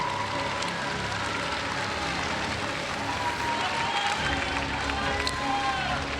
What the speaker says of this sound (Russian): давайте еще раз, еще более бурными аплодисментами